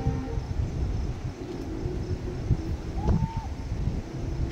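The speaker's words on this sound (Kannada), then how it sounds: "ಈ ಗಾಳಿ ಸೌಂಡಿಂದ ಆ ಸೌಂಡು ಕೇಳಿಸ್ತಾ ಇಲ್ಲ" Wind buffets a microphone outdoors at a dam around midnight, producing a low, uneven rumbling roar with gusty surges throughout and faint tonal sounds in the background.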